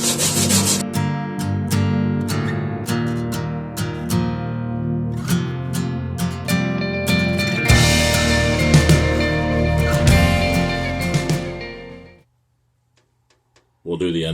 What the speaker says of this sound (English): Wire brush, wire wheel.